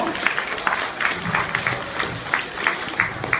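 Warm applause at a Korean book concert with author Kwon Yoon-duck, honoring a performer after two songs; a modest audience claps in a loose, uneven rhythm of distinct hand strikes, steady throughout.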